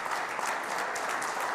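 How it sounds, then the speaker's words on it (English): A TV show studio audience applauds in a continuous wash of clapping, fairly faint and steady through the short stretch, with no voices above it. "And he deserves the applause"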